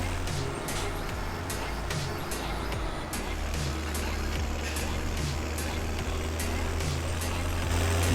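A tractor engine rumbles steadily while driving in the video game Farming Simulator 17, a continuous low drone with faint periodic clicks and no pauses.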